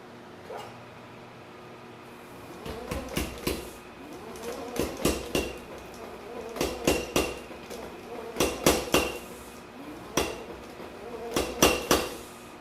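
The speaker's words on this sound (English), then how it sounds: "I'm going to do that on the power hammer too" A power hammer flattens hot steel at a forge, delivering bursts of rapid heavy metallic blows in repeated runs, loud and close, with short pauses between groups of strikes.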